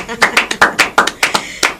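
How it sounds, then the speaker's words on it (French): Hands clap in a quick, uneven rhythm of about ten sharp claps at close range to welcome a guest on the broadcast, loud and near, with vocal sounds mixed among the claps. "Toujours avec les acclamations. Voilà, avec les acclamations."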